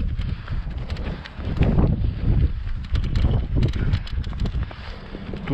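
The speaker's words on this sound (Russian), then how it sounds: "ветер дует" Steady wind buffeting and rumbling across the microphone, gusting louder at moments, with no voices.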